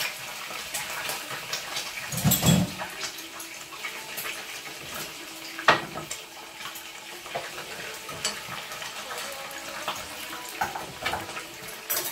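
A hamburger patty fries in a pan of oil for a guajira-style burger, giving a steady close sizzle with crackling spits and a few louder bursts and scrapes partway through.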